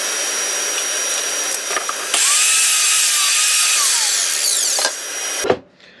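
Power saw cutting 18-inch lengths of wood for stool legs, a loud close whine rising as the blade bites in, a sustained cut lasting a few seconds, then the motor spinning down with a clunk.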